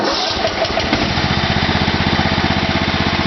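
A Kohler engine on a Wheel Horse tractor, one with a hard-starting-when-hot fault, runs steadily close by with a loud, even chugging that settles into a regular idle rhythm, no voices.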